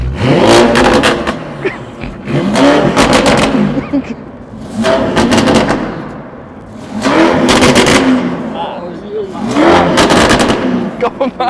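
A modified 900+ hp Urus engine revs hard four times in repeated bursts, each roaring up then dropping back to idle, loud and close.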